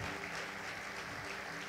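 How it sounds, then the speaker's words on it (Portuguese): A church congregation claps together during a service, a faint, distant and steady wash of applause with no clear voices over it. "Você pode aplaudir a Deus,"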